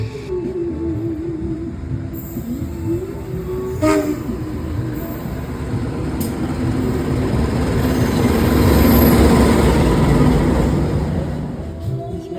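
A train rumbles loudly into a station in Banten, Indonesia, its rolling roar building toward the end, with a brief horn blast early on and a short spoken word at the start.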